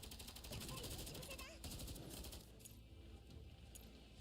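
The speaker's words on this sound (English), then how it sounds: "Gunfire explodes in the yard." Rapid bursts of gunfire in the video game Girls' Frontline 2: Exilium rattle over a busy mix of effects and background music, fading into quieter game ambience toward the end.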